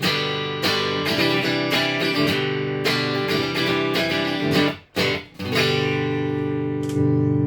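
An electric guitar plays through a Fractal AX8 multi-effects unit in bypass, giving a clean, dry tone: a series of ringing sustained notes and chords, close and alone, with one brief dropout midway.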